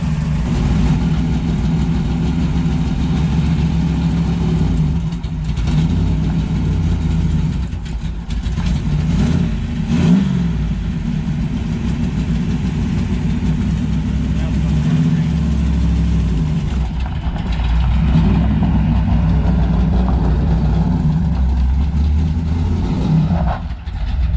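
A Dodge Charger with a custom exhaust idles with a deep, throaty exhaust rumble, steady and close, with occasional small blips in revs.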